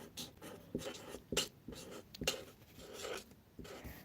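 A pen writes names on paper, producing quick scratchy strokes in short bursts with brief pauses between them, close and fairly loud.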